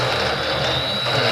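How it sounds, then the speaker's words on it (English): Steady mechanical grinding and whirring of a reamer working a hole in a planter part, continuous and close with a constant high whine throughout. "But you gotta ream it a little extra for that"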